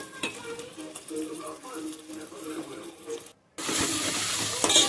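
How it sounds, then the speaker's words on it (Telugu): Chopped onions fry in a pan for a mango, drumstick and tomato curry, a steady soft sizzle and stirring that cuts out briefly and then returns as a louder, brighter hiss. "ముందుగా కట్ చేసిన ఉల్లిపాయలను అలాగే ముందు దోరగా దోరగా వేయించి"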